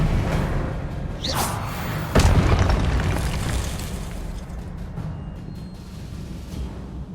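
Expelliarmus disarming spell cast in the Hogwarts Legacy video game: a bright rising whoosh followed by a loud, close booming impact, then a dense rumbling wash of game ambience that slowly fades, with no talking.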